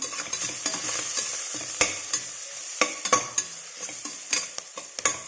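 Spinach rice masala stirred in a pan with a spoon, a steady run of close scraping strokes over a soft sizzle, with no voices.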